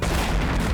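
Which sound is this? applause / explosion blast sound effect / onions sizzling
explosion blast sound effect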